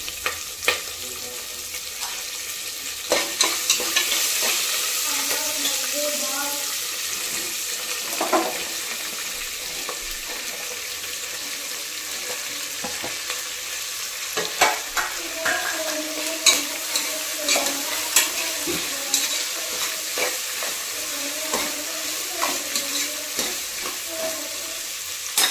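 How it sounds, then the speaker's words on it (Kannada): Chillies and curry leaves fry in hot oil for a tempering, making a continuous close sizzle with bursts of crackling and spitting, plus occasional clinks of a utensil stirring the pan. "ನಾನಿಲ್ಲಿ ಒಗ್ಗರಣೆ ಹಾಕೋದು ಮಾತ್ರ ತೋರಿಸಿದೆ."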